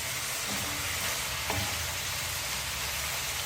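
Vegetables added to a cooking pan after tomato and red chili pepper sizzle in a dense, continuous hiss, close up, with one faint clink partway through.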